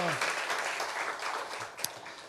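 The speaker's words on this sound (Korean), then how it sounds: "하나님께 우리 영광의 박수 올려드리겠습니다" A congregation applauds during a Sunday church service, a broad wash of clapping that carries steadily for a couple of seconds at moderate distance, with a faint voice beneath it.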